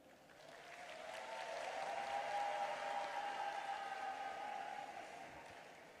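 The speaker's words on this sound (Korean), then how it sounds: "뜨거운 박수와 함성으로 맞아주십시오" An audience at a political rally bursts into sustained applause mixed with cheering, a broad wash of clapping that swells and then tapers, heard from a distance.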